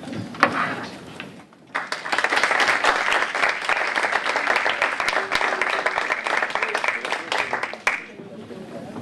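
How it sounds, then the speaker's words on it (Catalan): Sustained audience applause greeting a speaker before a lecture, starting after a brief pause and running loud and steady for about six seconds before tapering off. "us demanaria que el rebéssim amb un aplaudiment"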